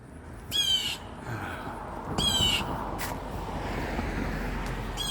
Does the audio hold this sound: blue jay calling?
yes